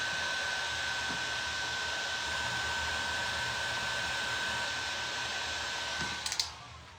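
A hair dryer blows steadily at close range to dry decoupage on thrifted decor, a constant whooshing roar with a thin whine that fades slightly near the end after a few small clicks.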